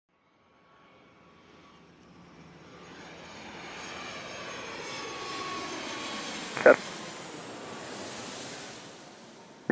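A jet airliner takes off from Atlanta airport, its engine roar building gradually from faint to a broad, steady rumble with a wind-like wash, heard from a distance.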